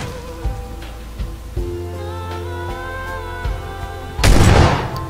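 Video game gunfire: a few sharp, spaced shots over a sustained musical drone, ending in a loud burst of noisy blast that runs to the end.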